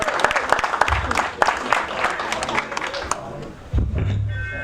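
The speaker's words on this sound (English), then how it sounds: "Give him a round of applause, please." Audience applause at a boxing hall of fame induction ceremony, a crowd clapping steadily for the hall of fame president, then tapering as room noise and a low rumble take over.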